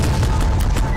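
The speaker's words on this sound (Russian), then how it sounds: "Ого, что они взрываются сразу?" Bombs exploding in the video game Garry's Mod, a loud, continuous rumble of blasts and crackling detonations filling the whole second.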